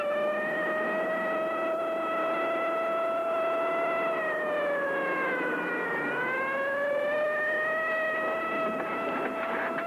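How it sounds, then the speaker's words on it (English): Police car siren wailing steadily, rising and falling once in pitch, heard at moderate distance over a low rumble of traffic. "Police car."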